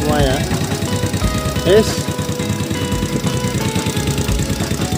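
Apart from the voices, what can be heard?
Honda Revo motorcycle engine running after repair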